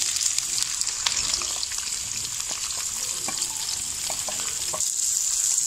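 Three medium chopped onions frying in hot oil for aloo methi chicken, a steady bright sizzle with a few soft utensil clicks, close and continuous with no talking.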